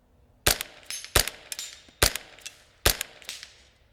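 Four sharp shots from a JPRFX semi-automatic .22LR rifle, evenly spaced under a second apart, each a crisp crack with a short echo tail, at close range and with no voices.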